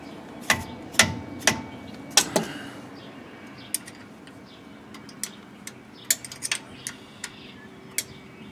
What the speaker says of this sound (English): locking bolt here is a 3/8, and we'll go ahead and loosen that up, take that bolt out of there.